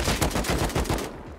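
Rapid burst of gunfire from the video game Rust, a quick run of loud sharp shots in close succession lasting about a second, then cutting off abruptly.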